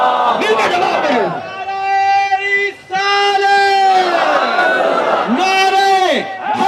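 A crowd at a Muharram religious gathering in Rawalpindi, Pakistan, shouts a religious slogan in unison. Loud, drawn-out chanted calls rise and fall in repeated waves, with a lead voice and mass responses close by.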